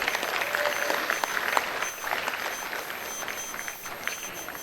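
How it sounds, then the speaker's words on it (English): Crowd applause at a dairy cattle show for heifer breeders and exhibitors, steady sustained clapping from the spectators in an arena, with no talk over it. "I'd like everyone to give all these breeders and exhibitors a round of applause for all these heifers they've brought out today"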